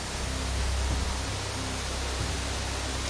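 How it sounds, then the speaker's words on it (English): Waterfall in Turok 2: Seed of Evil, a steady broadband rush of falling water that fills the whole moment without a break, with faint low tones beneath it. "It's the waterfall."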